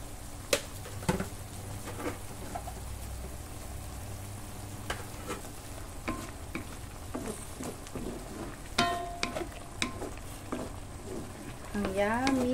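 Vegetable soup simmering in a pot as moringa leaves are added and stirred, giving soft clinks, stirring scrapes and a steady bubbling sizzle close by.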